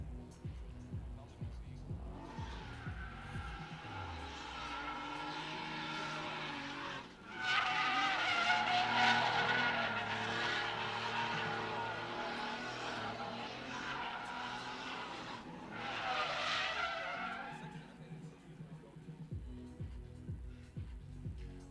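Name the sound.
drift car engine and skidding tires at drift pit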